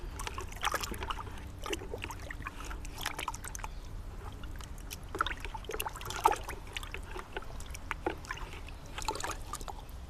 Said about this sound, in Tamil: சாணத்தை நம்ம தண்ணியை நல்லா கரைச்சி விட்டுக்கலாம்.